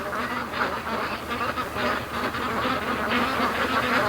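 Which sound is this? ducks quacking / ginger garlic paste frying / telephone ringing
ducks quacking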